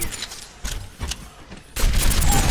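Gunfire at red-outlined training robots in Overwatch, in several dense bursts that build into a louder sustained volley near the end.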